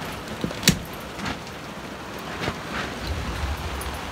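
Heavy rain driven by gusting wind during a thunderstorm, a steady broadband wash of downpour with occasional rougher gust bursts and a few brief knocks, no talking.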